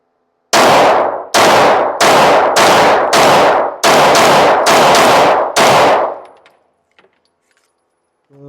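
A Ruger rifle fires about nine close, loud shots in a fast, fairly even string, each a sharp crack with a brief ringing tail, followed by a few faint clicks and near silence.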